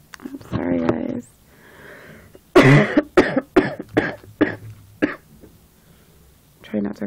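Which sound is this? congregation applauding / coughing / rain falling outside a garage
coughing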